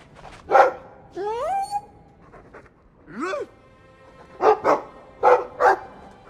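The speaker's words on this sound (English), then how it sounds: "I like the doggy." Dog in the Dragon Age 2 video game barking, panting and whimpering nearby, with several short bursts of barks and a rising yelp between breaths.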